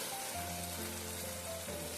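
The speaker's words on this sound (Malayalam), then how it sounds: "ഇതിലേക്ക് നമുക്ക് ശർക്കര ഇട്ട് കൊടുക്കാം" Jaggery dropped onto rice and lentils in a hot ghee-coated pot for sharkara choru produces a soft, continuous sizzle with faint bubbling, low and even throughout, with no talking.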